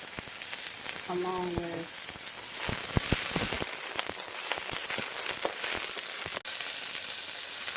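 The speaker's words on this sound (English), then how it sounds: "I'm just going to throw the chanterelles over in there" Chanterelle mushrooms sizzle loudly in a pan with cooked red onions, a steady dense crackle throughout with a few sharp pops and a brief spoken phrase early on.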